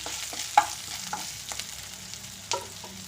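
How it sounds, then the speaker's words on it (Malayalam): Crushed ginger and garlic sizzle and fry in a pan for tomato chutney, a soft steady hiss broken by a few sharp stirring clinks. "ഇനി ഇഞ്ചി വെളുത്തുള്ളി ചതച്ചതിട്ട് കൊടുക്കാം. അത് ഒന്ന് ചൂടാകണം."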